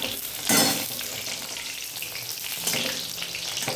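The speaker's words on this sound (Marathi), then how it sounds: "तुम्ही लसणासोबतच मिरच्या चेचून घ्यायच्या आणि तेलातच टाकायच्या" Crushed garlic and green chillies sizzle and crackle in hot oil in a pan while cooking dill greens bhaji. A sharp burst of spitting comes as they hit the oil, then a steady fry with soft stirring.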